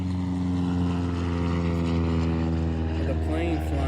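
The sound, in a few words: airplane flying overhead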